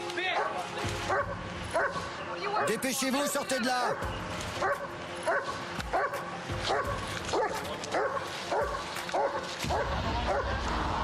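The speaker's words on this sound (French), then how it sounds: "On vient de lancer le chien pour le traquer." A police dog barks and yelps repeatedly, close and agitated, while officers shout over it during a suspect search in the United States.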